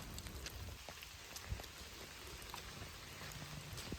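Rain patters on a hiking trail, a faint, even hiss scattered with soft individual drop taps, with no one speaking.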